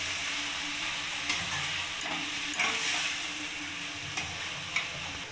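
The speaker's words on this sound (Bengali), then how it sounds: "এবার আমি সবজিগুলোকে ভালো করে ভেজে নেব" Mixed vegetables for pav bhaji sizzling steadily in a pan, with occasional clicks and scrapes of a spatula stirring them, no voices.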